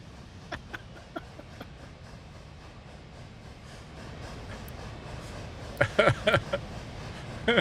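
A train in the industrial building game Captain of Industry rolls along with a steady mechanical rumble and hiss, punctuated by irregular clicks and clanks that grow louder toward the end.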